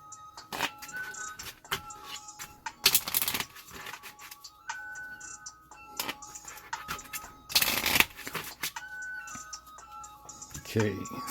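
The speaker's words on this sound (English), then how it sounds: "I think I've already shuffled everything, but I'll shuffle again though." A deck of Skytear Horde game cards is shuffled by hand on a tabletop, with two loud riffle bursts and lighter card handling and shuffling between them.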